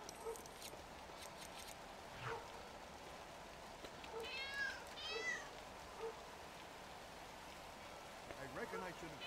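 A cat meows a few times in LEGO City Undercover, short rising calls standing out faintly from a quiet game ambience with soft background noise.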